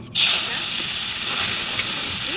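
Hot oil sizzling in a pan for fish-paste langcha cooked outdoors in a village riverside setting, a steady bright hiss that starts abruptly and carries on unbroken, close and fairly loud.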